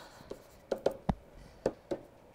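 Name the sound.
writing out rules by hand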